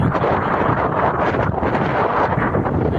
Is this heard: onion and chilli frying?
no